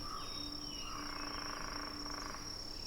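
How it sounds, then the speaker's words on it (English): Distant cicadas keep up a continuous high buzzing drone, with faint chirps and calls layered over a warm, quiet outdoor background. "The sound of cicadas in the distance and the warm air"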